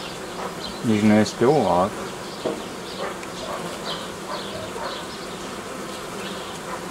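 Honeybee colony at hive frames during a colony split: a steady, dense insect hum runs throughout, with someone briefly talking early on over the buzzing.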